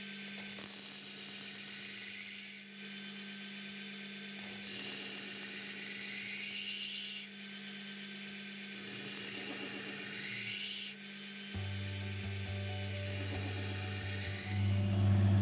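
A knife blade is rough-ground to a Scandi bevel at a 10-degree setting, with a whining grinder buzz that comes in repeated passes and pauses.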